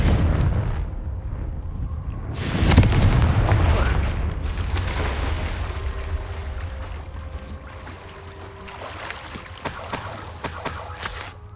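A Confringo fire spell from the video game Hogwarts Legacy bursts with a heavy booming explosion, followed by rumbling debris and fading crackles, then lighter magical chimes and scattered effects toward the end.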